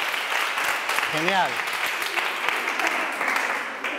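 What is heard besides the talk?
children applauding in a physical education class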